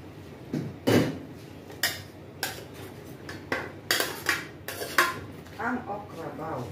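Eggplant goes into a pot of shrimp sinigang, setting off a string of sharp metallic clanks and scrapes of utensils against the cookware, spaced irregularly over a low kitchen hum, with a voice speaking briefly near the end.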